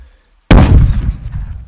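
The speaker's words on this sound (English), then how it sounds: "I have my shotgun. Like every pellet will go to the up and right" A shotgun fires in an Unreal Engine video game: one sharp, loud blast with a short rumbling tail, and a second blast just begins at the very end.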